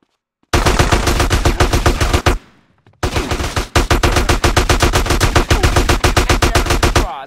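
Automatic gunfire in the video game Grand Theft Auto San Andreas, two long rapid bursts of loud close shots separated by a short pause, alone without talk.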